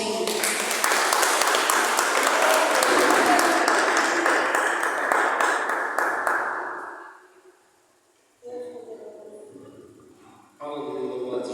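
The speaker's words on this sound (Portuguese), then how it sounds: "As palmas louvam ao Senhor" A church congregation claps in praise, a loud dense burst of many hands that fades out after several seconds, followed by quieter spoken bits and sparse sounds.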